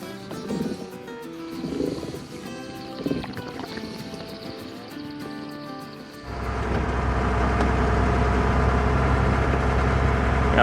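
A farm tractor engine starts partway through and settles into a loud, steady, close idle, following a quieter stretch of mixed background sounds.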